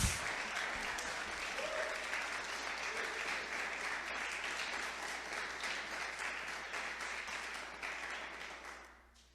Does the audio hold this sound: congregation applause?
yes